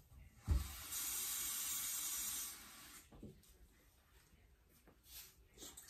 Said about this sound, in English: So, let's get 1 cup of water first.